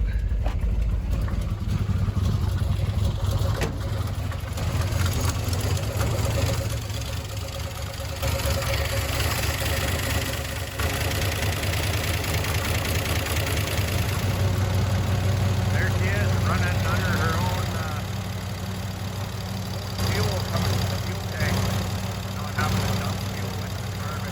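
An old Chevrolet Suburban's engine runs at a steady, rumbling idle after firing up. Someone talks over it at times.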